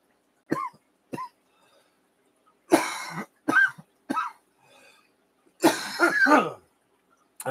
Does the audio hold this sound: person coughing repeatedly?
yes